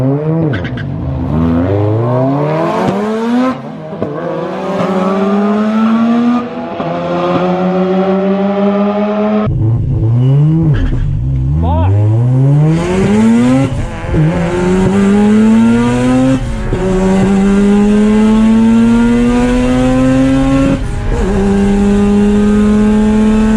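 Race cars including an SR Miata race past, their engines loud and close, revving hard through rising and falling gear changes, with several passes overlapping continuously.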